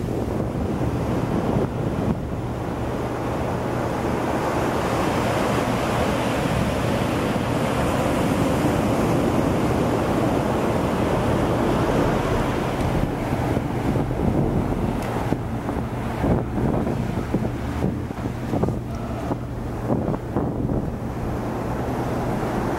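Ocean waves wash onto China Beach in steady, continuous surf, with heavy wind buffeting the microphone throughout and no voices.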